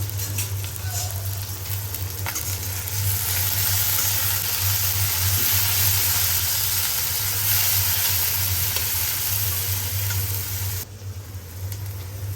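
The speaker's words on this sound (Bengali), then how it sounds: "এখানে আমি পেঁয়াজ তারপরে তেজপাতা দারচিনি এলাচি দিয়ে দিয়েছি" Chopped onion frying with bay leaf, cinnamon and cardamom in hot oil for biryani, a steady close sizzle running throughout with a low hum beneath.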